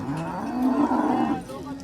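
A cow at a cattle market in Kopargaon moos once, a loud, close, drawn-out low call of under two seconds.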